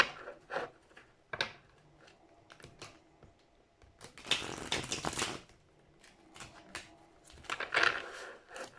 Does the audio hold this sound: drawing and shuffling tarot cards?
yes